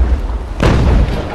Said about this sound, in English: I'm glad I managed to get one shot there.